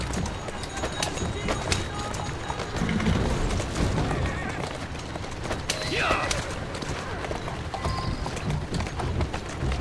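Steady clip-clop of a carriage horse's hooves at a trot in the video game Assassin's Creed Syndicate, over a busy, noisy background, with a brief horse whinny midway and some speech mixed in.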